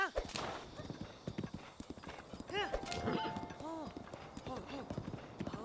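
Steady clip-clopping hooves with an occasional horse whinny from the video game Breath of the Wild, fairly close, while a voice speaks over them.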